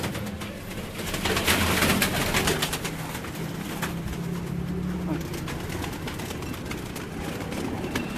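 Pigeons coo in low, soft, repeated calls amid a busy background of rustling and flapping, with faint speech.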